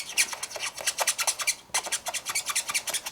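Spectrum Noir TriBlend alcohol marker strokes on paper make close, rapid rubbing squeaks, repeated back and forth in quick bursts over about three seconds with a brief pause midway.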